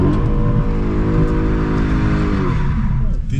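A Dodge car engine revs hard at full throttle while drifting, a loud close sustained roar with rising and falling pitch and hints of tire squeal.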